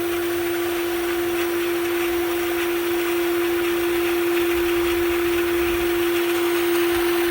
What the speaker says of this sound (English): That's what the prime cycle on your pump is for. Kicks it up high, drives all the air out of the system.